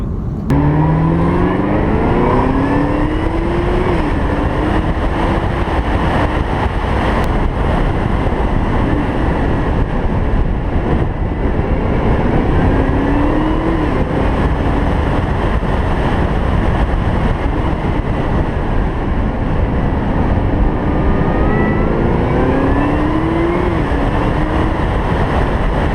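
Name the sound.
Chevrolet Camaro ZL1 accelerating with 10-speed automatic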